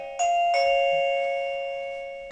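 A wireless video doorbell chime, the ieGeek Bell J10, plays a clear two-note electronic ding-dong. The second tone rings on and fades slowly, close and alone with no voices.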